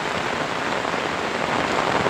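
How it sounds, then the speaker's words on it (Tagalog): Heavy rain pours steadily on a vegetable farm growing eggplant and chili peppers, a dense, even hiss with no pauses and no voices. "Yan lakas po ng ulan natin"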